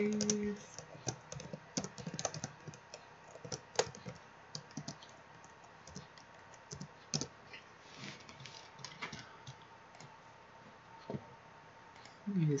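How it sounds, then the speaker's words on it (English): Steady typing on a computer keyboard, with clustered key clicks and occasional louder taps spread across the whole stretch, close and fairly quiet during a gaming session. "Typing, are you?"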